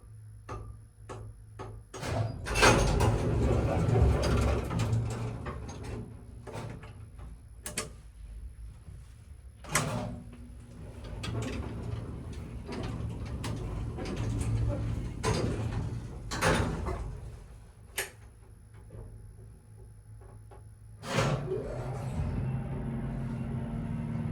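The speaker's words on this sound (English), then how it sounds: "I want to hear that door open again." A vintage Otis top-driven traction elevator works its sliding door, with mechanical clunks, rumbling rollers and sharp clicks and thuds as the door moves, followed by a steady machine hum.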